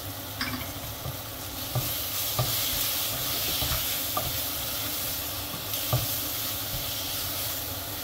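Chili powder and masala frying in oil for a Sri Lankan Mannar-style brinjal curry, with a steady close sizzle and hiss and occasional stirring scrapes, no voices.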